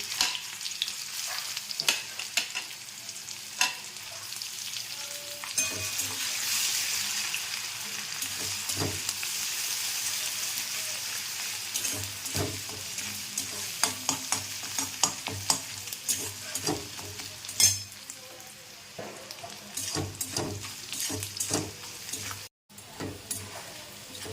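Crushed ginger, garlic and bay leaf fry in oil for chilli chicken, giving a steady close sizzle with scattered stirring scrapes and small crackles throughout, no voices.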